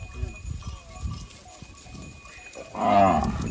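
A cow lets out a loud, drawn-out moo near the end, after a stretch of low rumbling farmyard noise from cattle circling a field.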